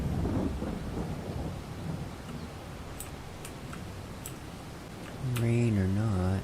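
In Farming Simulator 22, a steady wash of game rain hisses with a low thunder rumble during field work, and a voice briefly starts speaking near the end.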